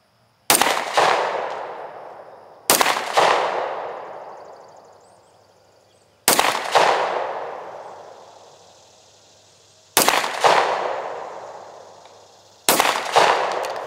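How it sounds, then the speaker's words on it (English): Five single Sig Sauer pistol shots ring out at uneven intervals outdoors, each a sharp loud crack followed by a long fading echo, with silence between. "I'm gonna shoot these couple rounds that are in here because I actually want to shoot this side by side with the Glock"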